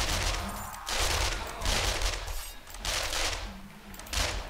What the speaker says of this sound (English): I love this SMG, it's so good.